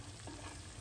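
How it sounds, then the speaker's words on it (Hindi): Tomato masala fries in oil in a pan, a steady close sizzle with a faint stirring scrape, brief and at low volume. "इस तरह से हमें भूनना है,"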